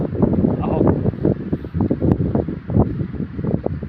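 Gusty wind buffets the microphone at a grassland riverside picnic spot in Assam, a loud continuous roar with rustling.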